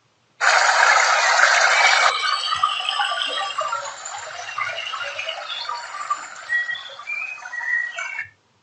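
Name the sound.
trickling, gurgling water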